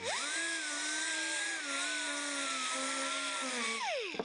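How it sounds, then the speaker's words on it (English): A small Harbor Freight detail sander with a foam pad and 2-inch 80-grit paper works on wood, giving a loud, steady high-pitched motor whine that holds nearly constant, then winds down at the end. "I'm going to take and use that little Harbor Freight detail sander"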